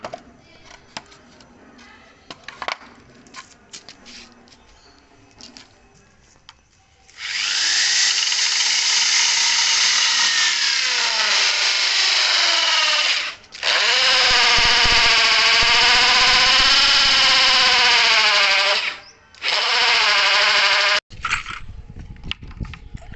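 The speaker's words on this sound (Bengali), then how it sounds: "আমরা এগুলো ফুটো করে নিচ্ছি, সেই লাগবে।" A power drill boring holes in a handmade build: quiet rustling gives way to three long, loud bursts of whining drilling with brief pauses between them, ending with a short final burst.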